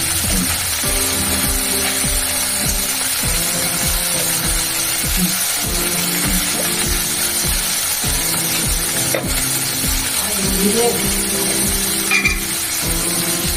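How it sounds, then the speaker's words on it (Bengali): Green chillies fry in a pan with oil, turmeric, salt and crushed garlic for a katla fish curry with green banana: a steady close sizzle under repeated clattering knocks of a stirring utensil, with no talking. "একসঙ্গে দুটো লঙ্কা ভেজে দিই"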